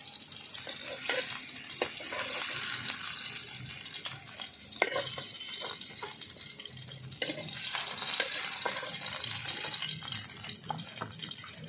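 Pieces frying in a pan for a pomfret fish and cabbage curry make a soft, continuous sizzle, broken by repeated scraping and stirring clatter from a spatula, with no talking.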